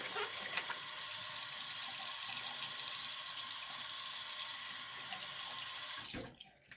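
Water from a bathroom sink tap runs steadily and loudly for about six seconds, rinsing soap off a shaving item, then cuts off abruptly near the end.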